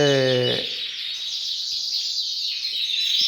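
A songbird sings a clear, bright run of high warbling notes, close and fairly loud, continuing steadily with no voices.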